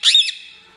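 A pet parrot named Chithu gives a single sharp, loud squawk close by, lasting under half a second before trailing off, with no talking.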